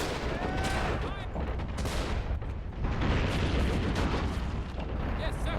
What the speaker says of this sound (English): More mortars over here making life hell.